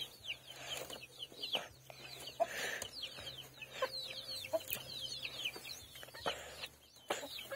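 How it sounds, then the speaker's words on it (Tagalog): Chickens cluck softly and intermittently nearby, with occasional louder squawks over a quiet outdoor background. "Ang mga manok namin."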